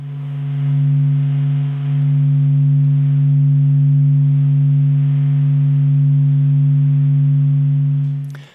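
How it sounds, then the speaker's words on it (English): Satellite recording of the sun sped up 42,000 times, a steady droning hum with layered harmonic tones that holds evenly for about eight seconds before cutting off. "So if you speed up the sun, that's what it sounds like."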